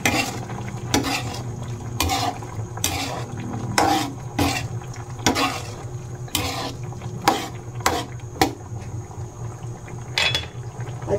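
Squid adobo is stirred in a pan with a utensil, giving close scraping knocks at an irregular, roughly one-per-second rhythm over a low steady simmer.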